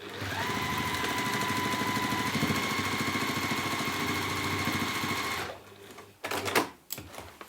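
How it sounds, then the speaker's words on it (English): A sewing machine runs steadily, stitching straight across both layers of fabric for a hanging shoe bag, a close, continuous motor whir for about five seconds, then stopping, followed by a few soft handling clicks. "we're going to sew straight across both layers, all of that"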